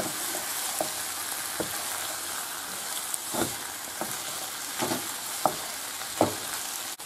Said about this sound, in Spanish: Y ahora echamos el caldo.